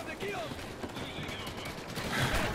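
Gunfire in the video game Call of Duty: Ghosts comes as a quick burst of rapid shots, fairly loud, over busy game noise and a voice talking.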